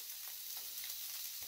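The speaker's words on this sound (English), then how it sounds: "You can hear that sizzle." Wagyu beef sizzles steadily in a hot pan, a dense continuous frying hiss with faint crackles and pops throughout, close and fairly loud, with no voices.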